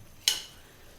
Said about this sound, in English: Now, I'm going to put some water in here.